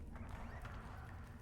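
Hooves of a part-skeletal flying horse in the Warframe video game, a quiet, steady clip-clop under a low continuous background hum.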